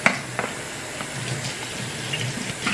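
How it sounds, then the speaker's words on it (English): Water runs steadily from a kitchen tap while a glass coffee mug is hand washed beneath it, a close, even hiss with small clinks and splashes. "I had coffee in it this morning, so I need to hand wash it real quick."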